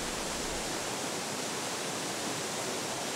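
Twin waterfall of snowmelt pouring down beside a sacred mountain shrine in the Dewa Sanzan range, a dense, even hiss of falling water, steady and loud with no other sounds or voices.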